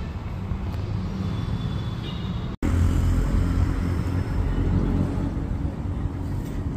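Royal Enfield Interceptor 650 in Orange Crush, fitted with a top rack and rear footpeg extenders, riding on the road, a steady low engine and road rumble with wind, continuous and fairly loud, with a brief dropout partway through.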